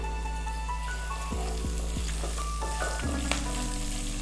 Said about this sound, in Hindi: तीनों को हम एक साथ भून लेंगे।